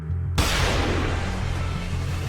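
A loud explosion in the anime Sakamoto Days bursts in suddenly after a brief silence, then rumbles on as a sustained, heavy low roar with crackling debris noise.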